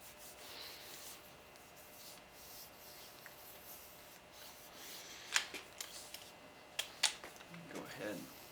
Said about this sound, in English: Go ahead and rub the barrel down a little bit since I got it on my hands.